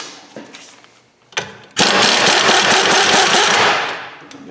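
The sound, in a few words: power tool loosening a bolt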